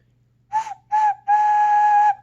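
Three whistled tones from a small homemade clay whistle ocarina: two short toots, then a longer sustained note, clear and close.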